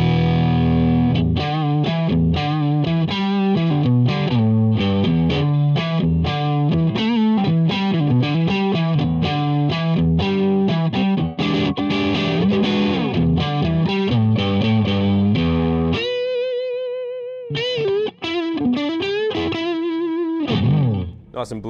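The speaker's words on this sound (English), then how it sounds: "Nice and bluesy, as you expect from a blues driver." Electric guitar through a Blues Driver overdrive pedal on a Strat's neck pickup, playing a bluesy line with a loud, gritty driven tone, sustained notes and bends carrying on alone to the end.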